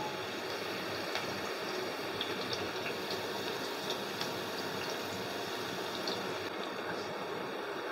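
Chopped onion frying in hot oil for a mutton yakhni pulao, giving a steady, dense crackling sizzle that holds evenly throughout with no talk.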